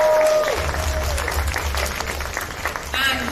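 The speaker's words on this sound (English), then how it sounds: "Can we have another round of applause for our darling winners today?" Audience applause for winners at a live Fallout horror SFX makeup event, a broad wash of clapping from a crowd sustained through the moment, with a voice speaking over it near the start and end.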